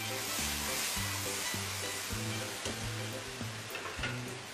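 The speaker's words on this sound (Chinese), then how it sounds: "要有这种滋啦滋啦的声音。" Ginger chicken (jiang men ji) sizzles hard in a pan over high heat as the last of the added water cooks off. The steady crackle runs under low rhythmic tonal hums and a few clicks, with no voices.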